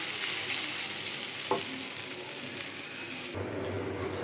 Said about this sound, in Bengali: খালি লাড়াচাড়া লাড়াচাড়া দিয়ে জরা করে নেব তারপরে মশমশা হয়ে যাবে